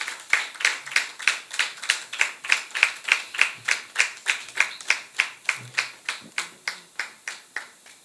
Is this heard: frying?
no